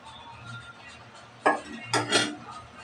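Small fish being stirred into a gourd-leaf curry in a pan make a few sharp utensil scrapes and clanks over a quiet background.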